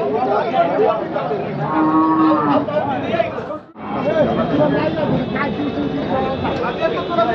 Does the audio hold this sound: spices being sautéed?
no